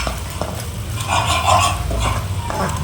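Beaten egg and potato are stirred in a frying pan over a medium flame, with steady scraping and soft sizzling and a few clinks of the utensil against the pan. The sound is close and carries no talk.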